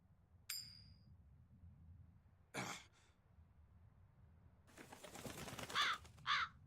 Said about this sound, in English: That crow just flew off with the coin.